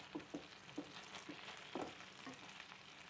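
Soft scraping strokes of a spoon stirring tomato, chilli and soy sauces into a pan of fried fish chilli, a few rhythmic stirs over a faint sizzle.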